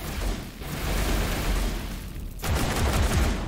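Continuous weapon fire in the space combat game Everspace 2, a loud dense barrage of shots and booms that drops briefly near the middle and then resumes just as heavily.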